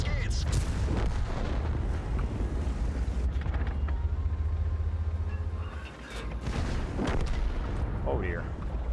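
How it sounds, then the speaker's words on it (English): Artillery fire in World of Tanks, heavy booming blasts and rumbling explosions layered over a constant low engine drone, with someone talking over the battle. "Frickin' frick artillery."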